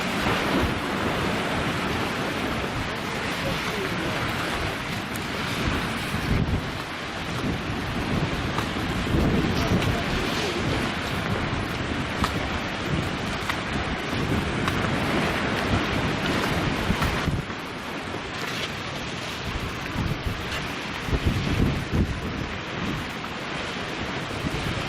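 High-tide sea waves surging against the base of Watchet lighthouse, a loud, steady roar of surf churning without pause, heavily buffeted by wind noise on the microphone.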